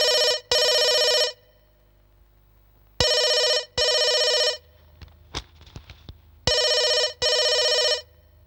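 A telephone in a film scene gives three loud double rings, ring-ring then a pause, evenly spaced. Faint clicks and rustling fill the gaps between rings.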